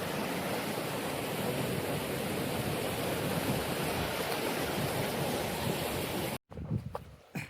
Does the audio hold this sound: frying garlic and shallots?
no